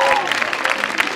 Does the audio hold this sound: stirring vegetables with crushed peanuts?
no